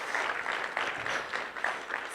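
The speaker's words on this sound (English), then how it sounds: "Let's all give her a round of applause." An audience at an education event claps for a staff member, a moderate burst of applause that stays fairly even and close.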